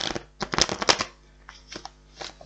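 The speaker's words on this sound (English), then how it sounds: "One more shuffle." A deck of tarot cards is shuffled close by in brisk bursts of riffling and slapping, followed by softer, sparser card handling.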